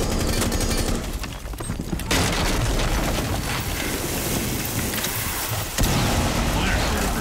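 A grenade explodes in the video game Rainbow Six Siege, a sudden heavy blast rising over a dense din of gunfire and game noise, with a second sharp burst later and players talking throughout.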